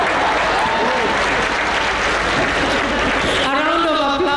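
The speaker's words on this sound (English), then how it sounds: "A round of applause." A crowd at a health conference applauds steadily and loudly, with a voice speaking over the clapping near the end.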